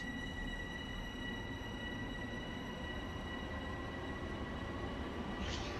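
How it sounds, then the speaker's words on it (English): A Long Island Rail Road train in the Train Sim World video game pulls away at full throttle, giving a steady low rumble of rolling stock with faint tonal whines above, continuous and even with no talking. "I can go ahead and put it in max throttle right out the gate, and we just kind of zoom off."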